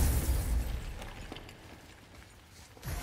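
A burst of crackling and rumbling opens a crystal exploding in the video game God of War, then trails off into a low hiss before another short burst at the end.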